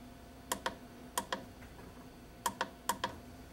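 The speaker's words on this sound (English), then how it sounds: "use the plus or minus keys to change to a time that's suitable for you" Plastic keys on a Rain Bird EC irrigation controller are pressed in quick pairs, six distinct clicks close to the mic, each sharp and brief, against a quiet room with a low hum.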